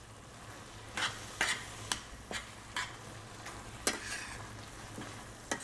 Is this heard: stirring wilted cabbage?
yes